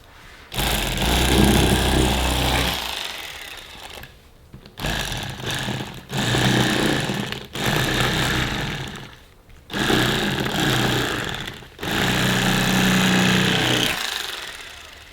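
An expensive electric fillet knife cuts through a fish in several loud buzzing bursts, its motor droning steadily for a few seconds at a time with short quiet pauses between passes.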